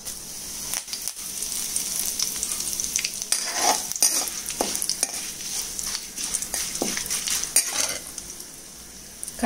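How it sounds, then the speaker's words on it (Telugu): Mustard tempering seeds and curry leaves sizzle and crackle steadily in hot oil in a pan, close and loud, with occasional spoon stirs and pops and no talking. "ఆయిల్ వేడెక్కిందండి. ఇప్పుడు ఒక స్పూను తిరగమాత గింజలు వేసుకుందాము."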